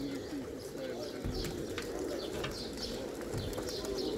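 A large flock of pigeons at a rooftop loft gives off repeated cooing and scattered chirps over a steady outdoor background, with faint voices.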